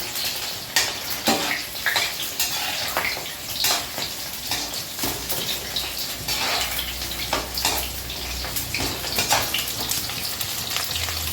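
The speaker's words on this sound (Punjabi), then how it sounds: "ਚਿੱਲੀ ਸਾਡੀ ਫਰਾਈ ਹੋ ਚੱਲੀ ਹੈ" Chillies fry in a pan for okra with gram flour, a dense continuous sizzle with frequent crackles and occasional stirring scrapes, close and fairly loud throughout.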